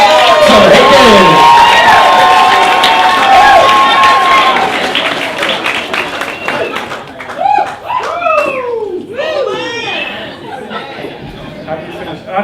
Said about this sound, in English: Can we have a big round of applause for the man of the moment, Tom Hacon.